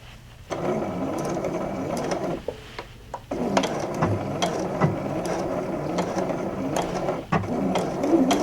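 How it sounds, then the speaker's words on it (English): A Juki sewing machine stitches pieces of jeans facing, a steady mechanical run with rattling, ratcheting clicks that pauses briefly in the middle before resuming at close range. "I'm gonna just sew all the pieces together like the instructions say"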